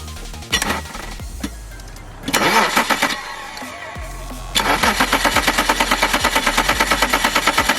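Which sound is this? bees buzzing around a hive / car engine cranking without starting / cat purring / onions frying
car engine cranking without starting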